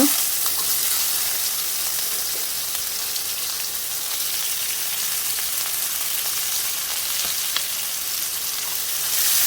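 Chopped onions and green chillies with curry leaves fry in hot oil, a steady broad sizzle that holds evenly throughout with faint stirring scrapes and no voices.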